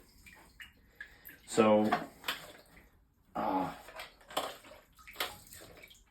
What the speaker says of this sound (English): there's water stuck somewhere inside the stock on this thing